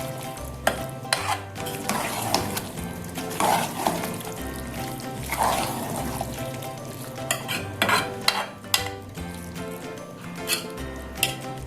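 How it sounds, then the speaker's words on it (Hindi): Chicken kachnar with green chilies and coriander being stirred in a pot: a spoon scrapes and clinks against the metal in irregular strokes over a steady low sizzle, close and moderately loud, with no talking. "इनको भी ऐसे मिक्स करें।"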